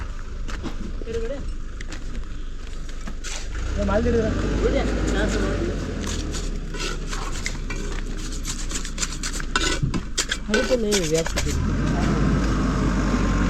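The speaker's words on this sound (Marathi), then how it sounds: "इकडे फाडीचा पण ट्रक आला आहे" A truck delivering laterite stones pulls up at a house being rebuilt in a Konkan village, its low engine rumble running steadily beneath nearby people talking.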